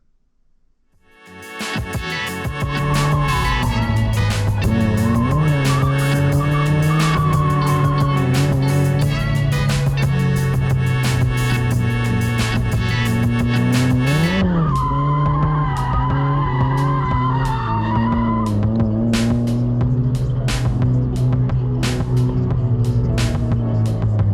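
A stock Mazda Miata drift car with a welded differential skids continuously on track, its tires squealing loudly over a steady droning engine note that briefly dips and swells midway.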